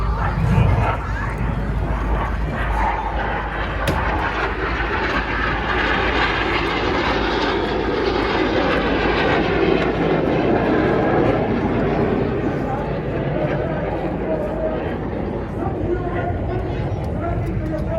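Red Arrows jet aircraft in a synchro pair pass at the Southport airshow, a sustained engine roar swelling under a commentator's amplified voice, with crowd ambience throughout.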